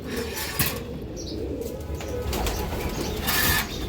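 Breeder pigeons, including a hen, coo softly amid bursts of flapping wings in a loft, with close, busy rustling throughout.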